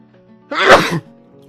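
One sharp, close human sneeze bursts out in a short, explosive rush and stops abruptly, with quiet before and after.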